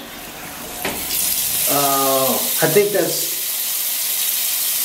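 Water spraying from a bidet in a hotel bathroom in Portugal, a steady hissing spray lasting a few seconds at close range, with people talking over and around it.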